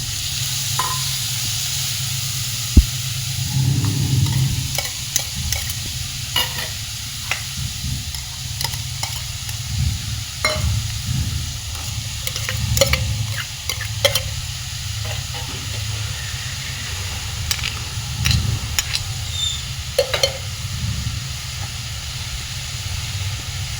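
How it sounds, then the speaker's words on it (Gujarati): Vegetables shallow-frying in a little hot oil in a kadai for vegetable momos, a steady broadband sizzle with scattered stirring scrapes and clicks throughout, close and continuous with no talking. "કઢાઈમાં આપણે બધી શાકભાજી આપણે શેલો ફ્રાય કરી લઈશું."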